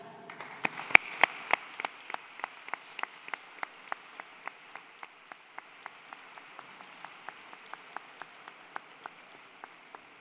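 Applause greeting the doctor at a university graduation ceremony, a soft wash of clapping from the audience with distinct individual claps standing out in a steady, slowing rhythm; moderately quiet, with no talk.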